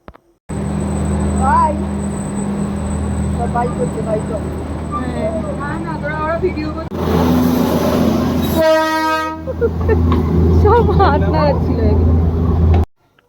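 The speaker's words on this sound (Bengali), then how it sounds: "আর এই যে দার্জিলিংয়ে এসে আমরা এই ফার্স্ট দেখলাম টয় ট্রেন।" The Darjeeling toy train rumbles past on its mountain line, a steady rolling clatter with a loud, brief horn blast near the middle, while people talk nearby.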